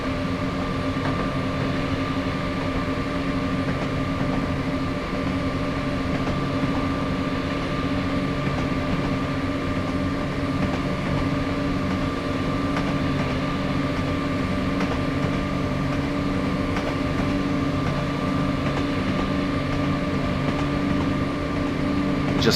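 A train accelerating at full power in Train Simulator 2016 on a route from Great Yarmouth to Norwich via Acle, a steady droning engine hum with constant tonal whine and rumble that never lets up.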